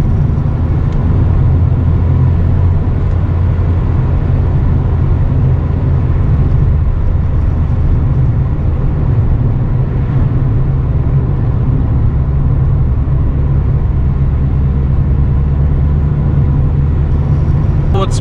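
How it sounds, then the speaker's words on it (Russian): Volkswagen Golf 2, an older restored hatchback on wide tyres, accelerating hard with a steady, loud engine drone that holds throughout, heard from inside the car with no talking. "Я даже не знаю, сколько секунд, но жесть, как она разгоняется"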